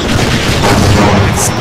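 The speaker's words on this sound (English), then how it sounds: "Exploded." A loud, dense explosion booms through a Half-Life firefight, a sustained low roar filling the whole moment with a brief higher burst near the end.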